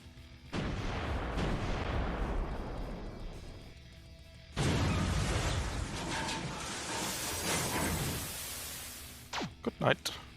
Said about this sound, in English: And I guess we'll shoot some missiles.